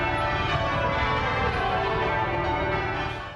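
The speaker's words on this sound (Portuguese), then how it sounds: "e com sinos do Big Ben" Big Ben's bells ringing out in London for the Queen's birthday, a dense, sustained wash of bell tones with layered overtones filling the whole stretch at steady loudness, no voices.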